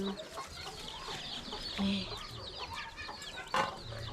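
Chickens cluck around a rural village home. Soft, scattered clucks and short calls come from several birds at moderate distance, with one sharper squawk near the end and a faint voice in the background.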